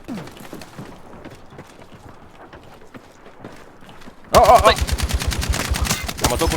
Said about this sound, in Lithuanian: Matau, kur šaudo.